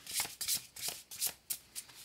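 Deck of oracle cards being shuffled by hand, a run of quick papery riffles in about eight short bursts, close and fairly quiet, with no voices.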